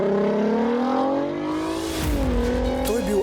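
A Volkswagen Golf R32 engine revs up loudly, its pitch climbing steadily before a shift, then pulling hard again, close and prominent throughout.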